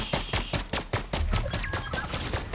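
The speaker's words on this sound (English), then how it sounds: "I think she's being shot at, Jack." Rapid bursts of gunfire from a shooting video game crack out in quick succession, loud and close, with shots repeating in a fast, uneven rhythm for a couple of seconds.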